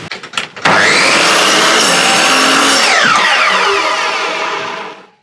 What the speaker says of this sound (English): Needs a bigger blade, but works fine. Nice. Perfectly acceptable chop saw.